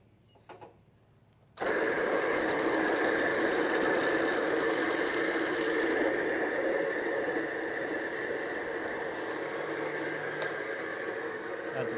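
A step drill bit bores holes in a metal bracket: after a quiet moment the drill kicks in abruptly and grinds on in a loud, continuous, close whir to the end.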